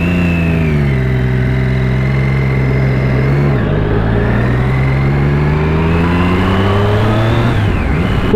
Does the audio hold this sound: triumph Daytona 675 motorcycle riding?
yes